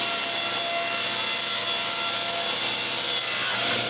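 A saw blade tilted to 10 degrees cuts through a long plywood piece, giving a loud, steady, rasping whine that runs for the full few seconds with no talk.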